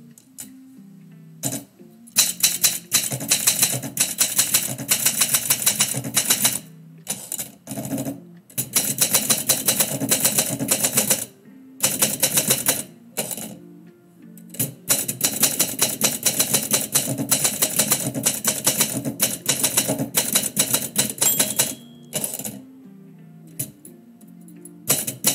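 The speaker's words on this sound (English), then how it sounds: "I have over 30 typewriters" Keys strike a manual typewriter in quick, clattering bursts, with brief pauses and the odd carriage bell or return, close up and alone for about twenty-five seconds.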